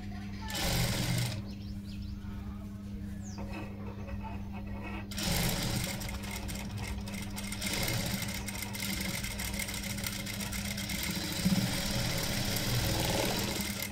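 A sewing machine runs in a steady mechanical whir while stitching a blouse during a blouse-stitching workshop, continuous and close, with voices talking over it.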